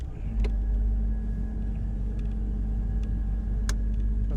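A 2013 Bayliner 195 with a Mercruiser 4.3 engine idles in a deep, steady rumble, and a couple of brief clunks sound as it shifts into forward gear.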